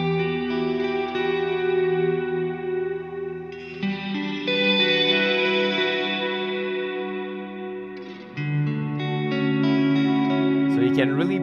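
Electric guitar played through a Neunaber Wet Reverberator reverb plugin: sustained chords and notes ring out with a thick, washed, chorus-like shimmer and long reverb tail, shifting in pitch a few times, loud and continuous.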